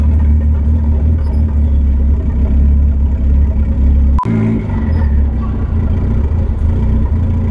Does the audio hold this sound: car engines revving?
yes